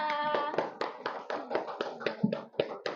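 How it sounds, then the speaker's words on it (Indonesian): A school class clapping for a student group, a few pairs of hands giving quick uneven claps close by, mixed with cheerful voices over a short burst. "kita beri tepuk tangan untuk kelompok 2"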